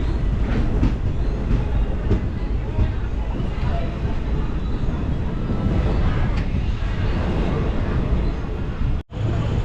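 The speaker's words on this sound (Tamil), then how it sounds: "ஸோ அந்த ட்ரெயின் போகுது பார்த்திங்களா" A long goods train rolls past on an Indian railway line near Mangaluru, a loud continuous rumble with wheel clatter filling the whole stretch, no voices over it.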